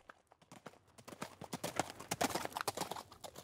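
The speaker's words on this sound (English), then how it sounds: "people have heard a perfect sound effect of a horse" Horse sound effect of hooves clip-clopping at a quickening pace, growing louder and busier toward the end, with no clear neigh standing out.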